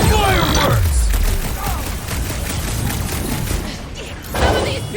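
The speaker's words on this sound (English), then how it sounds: "Rocket! Fireworks!" Rocket's fireworks bombs in the Guardians of the Galaxy video game go off in a dense, crackling fusillade of bursts with a low boom near the start, a second surge near the end, and game voices under the blasts.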